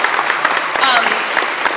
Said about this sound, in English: everyone should give the students another round of applause